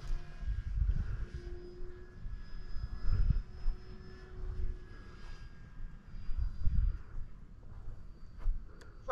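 A Turbo Timber Evo radio-controlled model airplane flying nearby, its electric motor droning and whining in fluctuating pitch over outdoor wind noise, moderately loud and continuous with no talking.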